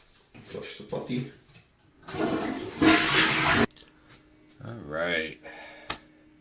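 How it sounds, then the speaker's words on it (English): A toilet flushes up close, a loud rushing roar of water lasting a couple of seconds, then tapering into refill trickles while someone speaks briefly afterward. "Flush the potty."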